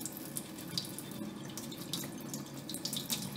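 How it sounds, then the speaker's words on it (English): A paint brush is rinsed and rotated under running tap water from a sink faucet, a steady close splashing stream that continues without pause and has no voices over it. "So I just will rotate it under running water"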